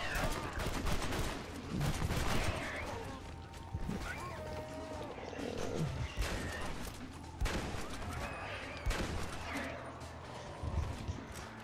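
Shotgun blasts fired at zombies in Red Dead Redemption: Undead Nightmare, several booming shots spaced irregularly across a busy game scene with hoofbeats and background noise, while players chatter over it.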